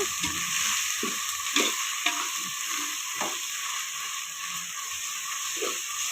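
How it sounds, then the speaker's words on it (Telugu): Ginger garlic paste sizzles in a pan with a constant bright hiss while a spoon scrapes and knocks in irregular strokes; close, steady, and free of speech. "అల్లం వెల్లుల్లి పేస్ట్ బాగా ఎర్రగా వేగాలి. ఎర్రగా వేగేంత వరకు కలుపుకోవాలి."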